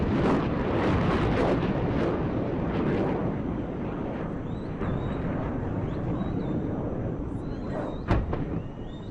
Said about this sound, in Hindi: सुनिए जरा धमाका और देखिए